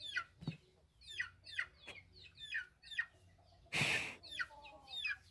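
Chickens in a horror video game cluck in short, rhythmic bursts, fairly quiet, with one louder squawk in the middle.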